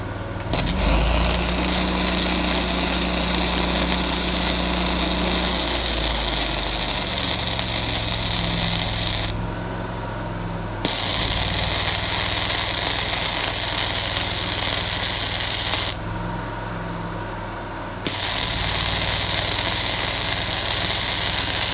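Engine of a Miller Trailblazer 325 EFI welder-generator, loud and close, droning steadily with two brief drops in level partway through before settling back to the same even idle.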